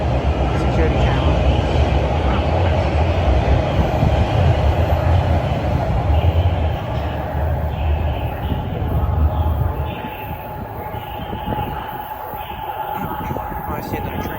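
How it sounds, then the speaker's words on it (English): A TTC subway train rumbles through Highway 407 station, a loud sustained roar with rattling that eases toward the end, while a person speaks nearby. "Oh, I see another train."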